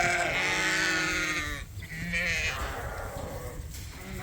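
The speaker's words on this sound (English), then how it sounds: "we decided it was time to trim the hooves on these girls" Several ewes bleat close by on a farm before hoof trimming, overlapping calls that rise and fade, one after another without pause.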